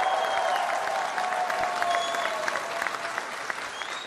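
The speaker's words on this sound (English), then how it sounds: "How about a round of applause for all those fans?" A large outdoor crowd of FC Cincinnati fans at Fountain Square claps in sustained, dense applause for the whole stretch, loud and even, with scattered cheers mixed in.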